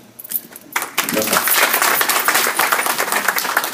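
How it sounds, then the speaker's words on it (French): A crowd bursts into sustained applause after a brief quiet start, many hands clapping densely and steadily. "je vous demande de vous applaudir vous-même"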